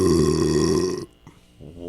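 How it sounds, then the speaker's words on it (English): A long, loud, deep burp that rumbles steadily for about a second and then breaks off, followed by faint short sounds at a much lower level. "That burp wins."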